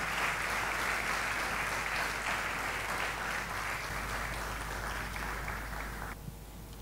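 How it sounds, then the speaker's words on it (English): An audience at an annual lecture gives steady, sustained applause for a speaker, a dense wash of many hands clapping that holds throughout and then fades at the end. "Please can we give her a round of applause?"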